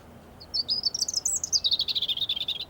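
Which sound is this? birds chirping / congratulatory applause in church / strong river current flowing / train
birds chirping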